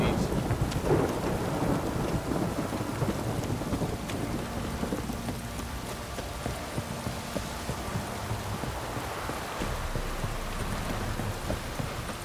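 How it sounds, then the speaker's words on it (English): Heavy rain pours steadily in The Witcher 3: Wild Hunt, with thunder rumbling low beneath a dense, constant hiss of falling water across the whole stretch. "Let me live, this downpour's a bastard, it is."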